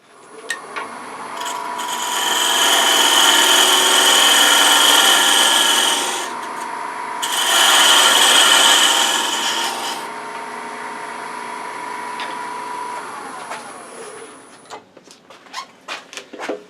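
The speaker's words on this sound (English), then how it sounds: "Then we're going to come here after I mark it down a little bit with the parting tool." A parting tool scrapes into wood spinning on a woodturning lathe, giving two long, loud rasping cuts separated by a short pause before the sound fades to faint clicks.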